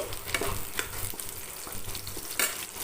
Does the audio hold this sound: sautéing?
yes